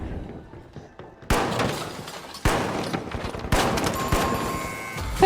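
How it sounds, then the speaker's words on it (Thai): Players exchange gunfire upstairs in The Finals: several sharp, loud bursts of shots and impacts at irregular intervals, with a rumbling background between them. "มันยิงกันอยู่ข้างบนอ่ะ"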